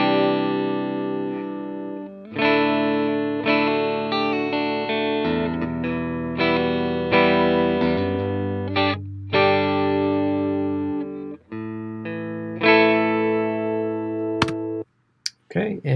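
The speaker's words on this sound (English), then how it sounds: "So here is the clean sound." Clean electric guitar tone played through a Positive Grid Spark 40 amp plugin, a run of sustained chords and notes with effects-unit shimmer, steady and close, ending in a few brief clicks.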